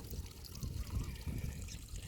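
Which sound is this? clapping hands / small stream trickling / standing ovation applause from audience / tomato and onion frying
small stream trickling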